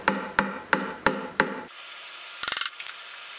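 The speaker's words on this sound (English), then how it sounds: "Now I can use the chisel to create a small ledge." Mallet blows drive a chisel into wood to cut a small ledge on a stand frame, five sharp evenly spaced knocks followed after a pause by a quick rattling burst of lighter taps, close and alone.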